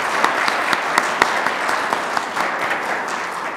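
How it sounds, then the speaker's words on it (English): An audience at a college symposium applauding with steady, dense clapping that fills the room, fairly loud and sustained, with no talk over it. "Now, we can clap for that one."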